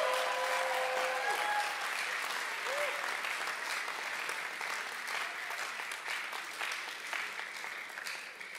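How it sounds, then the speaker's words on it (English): Audience applause at a school Christmas production, a sustained, dense roomful of clapping that continues for several seconds and slowly tapers, with a few brief voices and tones near the start. "what I want to hear from you at this time is a good hand clap"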